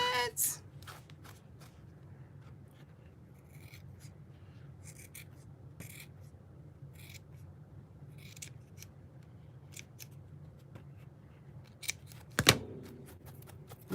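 Scissors cut a paper craft gnome tag in a run of quiet, close snips and rustles, with one sharper clack near the end in an otherwise hushed room.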